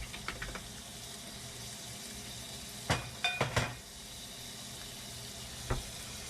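Butter sizzling in a frying pan with vegetables cooking down, a soft continuous hiss broken by several close clinks and taps of a utensil against the pan.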